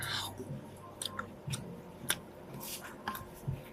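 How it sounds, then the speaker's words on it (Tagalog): Someone chews candy close to the mic, with soft wet squishing and a few crisp bites repeating over a few seconds, faint and without talk. "Buksan na natin yung aking candy. Kainin muna natin"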